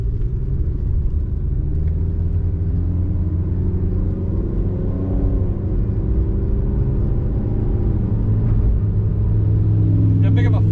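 A car rolls along a road at night during a DoorDash delivery run, giving a loud, steady cabin rumble of engine and tyres heard from inside, with no break throughout.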